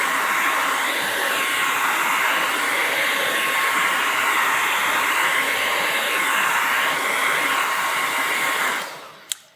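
A hair dryer blows steadily on wet stencil paint for a housewarming gift, a loud continuous whoosh that holds for about nine seconds before cutting off abruptly.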